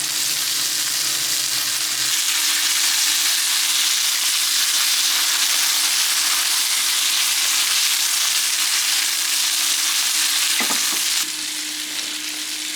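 Thick bone-in strip loin steaks searing in a hot pan, a loud, steady, close sizzle and crackle throughout, with a brief clunk near the end.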